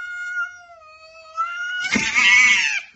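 Neighborhood stray cats fight: a long, rising caterwauling howl breaks into loud, harsh screeching and yowling close by.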